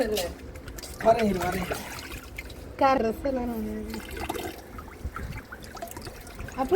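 Tap water runs while elephant foot yam is washed, a steady trickle and pour heard nearby beneath several people talking.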